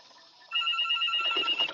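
A house phone rings indoors, a steady electronic trill that starts about a third of the way in and keeps sounding, fairly loud and close, with no talk over it.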